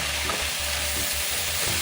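Shredded cabbage stir-fried in a wok with black vinegar and cut red chili, a constant dense hiss of frying with a low rumbling hum underneath, close and continuous with no voices.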